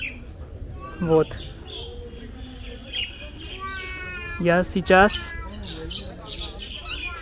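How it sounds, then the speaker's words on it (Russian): Birds chirp and call among trees at Sukhna Lake in Chandigarh, India, with scattered bright twittering phrases in the background while a person talks nearby. "Птицы поют."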